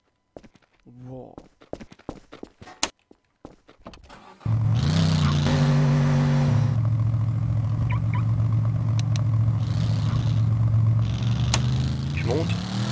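A car in Garry's Mod roleplay starts up after a few scattered footsteps and clicks, then holds a loud, steady engine drone with rising revs, while voices talk over it.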